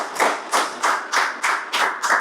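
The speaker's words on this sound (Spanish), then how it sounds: "Denle un aplauso fuerte al Señor." A church congregation claps in rhythmic bursts of about two claps per second, loud and close with no voices over it.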